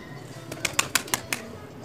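A pigeon from a long-kept breeding line, its wings flapping in a quick series of soft, close flutters lasting about a second, fairly quiet with no talk.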